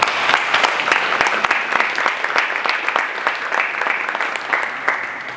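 A lecture audience claps steadily for several seconds, a dense patter of hands from a moderate-sized crowd, fairly close and tapering slightly at the end.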